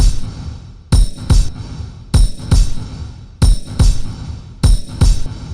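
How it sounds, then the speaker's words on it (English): Percussive hits processed with reverb set to a long pre-delay at roughly half wet mix, each dry strike followed after a noticeable gap by a delayed reverberant wash, repeating in a steady loud pattern with no talking. "You can hear there's quite a delayed effect now."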